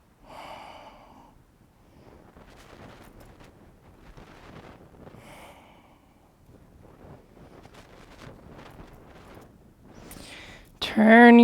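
Slow, deep yoga breaths: soft, airy inhales and exhales repeat at a calm, even pace, close and quiet, ending with a sudden louder rustle.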